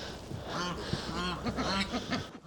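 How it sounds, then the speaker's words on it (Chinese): Ducks and geese kept at a rural single-storey house call out with repeated quacks and honks, close by and fairly loud, in an overlapping chorus for the whole stretch. "那边是那个灰的是鸭子，白的是大鹅"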